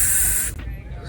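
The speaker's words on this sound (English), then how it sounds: "for everyday use on my locks, I basically just have a spray bottle" A handheld spray bottle mists water onto locs in one close, hissing burst lasting about half a second, then cuts off into quiet room tone.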